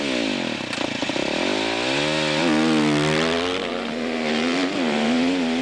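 A KTM 650 Supermoto single-cylinder engine revs up and holds a steady, loud drone close to the microphone on a training track, its pitch rising and wavering with throttle changes.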